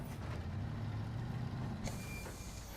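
A heavy truck engine in the video game SnowRunner rumbles steadily at close range, with a brief hiss and pitch shift near the end like a gear change.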